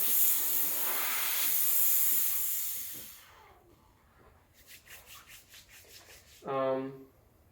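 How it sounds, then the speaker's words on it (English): Loud steady steam hiss from a Breville Dual Boiler BES900 espresso machine's steam wand for about three seconds, then it cuts off, followed by faint clicks and a short voice-like tone near the end. "The steam is very strong on this one."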